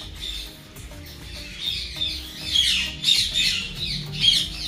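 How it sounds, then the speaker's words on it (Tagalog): An African grey parrot squawks in repeated harsh, shrill bursts that grow louder toward the end, with other caged birds audible faintly in the background. "Tapos dito African gray parrot."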